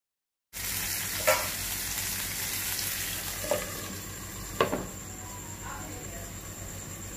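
Silver pomfret fish tikka fries in oil after flipping, a steady close sizzle that starts abruptly and carries several short clinks and scrapes of a utensil on the pan.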